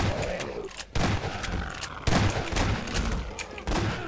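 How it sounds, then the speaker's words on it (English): Shotgun blasts from a Half-Life 2 firefight, three heavy broadband reports spaced about a second apart, loud and close, each trailing into a rumbling decay. "I shot him with a shotgun in the head"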